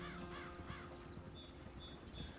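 Horse hoofbeats from riding in Red Dead Redemption clip-clop quietly at a steady gait, faint and even under soft outdoor game ambience, with a few bird calls drifting in.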